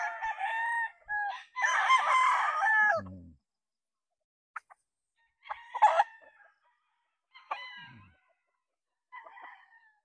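A Kelso rooster crows nearby in a long cock-a-doodle-doo, followed by scattered short clucks and softer calls from Kelso chickens with quiet gaps between them.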